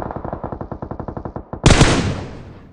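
Rapid automatic gunfire in a PUBG Mobile firefight: a steady burst of about twenty close, evenly spaced shots, then a single louder blast that rings out and decays.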